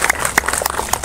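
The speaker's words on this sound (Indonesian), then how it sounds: "Tepuk tangan untuk Hafiz Genius dan Bapak Ibu sekalian." Audience at a grand launch event in a CGV cinema hall in Jakarta claps, a dense patter of many hands close by, mixed with a voice.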